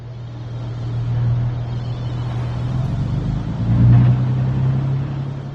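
Coalition battle tanks roll into a captured capital, a steady loud engine drone with a low hum that swells briefly as they pass.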